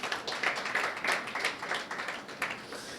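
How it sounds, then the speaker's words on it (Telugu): A church congregation claps loudly together during a pastor's sermon, a steady run of sharp, close hand claps lasting a few seconds. "చప్పట్లు కొట్టరా బిగ్గరగా"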